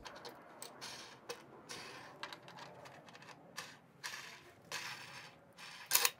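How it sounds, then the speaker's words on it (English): Small clanks and clicks of a wooden front jaw, washers and knobs being fitted onto a Moxon vise threaded onto its screws, scattered light knocks and a sharper clack near the end, with no talk. "Now put on the front jaw, washers,"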